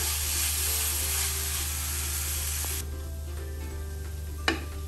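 Carrot mixture being stirred and fried in a pan for a carrot malai chop, with a steady loud sizzle throughout that quiets partway, then a brief sharp scrape of the utensil near the end.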